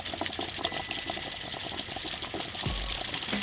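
Water drains steadily from an RV travel trailer hot water heater, a continuous close rushing splash with a brief low gurgle near the end.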